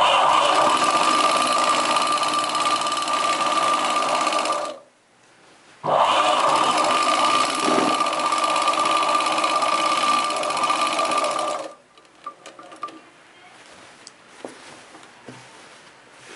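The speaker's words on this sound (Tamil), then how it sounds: "இந்த எட்ஜில் தையல் போட்டுட்டு வரேன்" A sewing machine stitches along the edge of a chudidar top in two long steady runs separated by a brief pause, then stops, leaving quiet handling noises.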